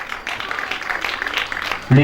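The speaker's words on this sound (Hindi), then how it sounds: "जोरदार तालियों के साथ" Loud audience applause breaks out at a Ramayan bhajan gathering, a dense, steady wash of clapping that holds for about two seconds and swells near the end.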